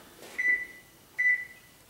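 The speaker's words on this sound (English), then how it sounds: "now that the alarm has gone off," Two short electronic beeps from an oven timer going off in a home kitchen during holiday pie baking, evenly spaced about a second apart and heard clearly with nothing else around them.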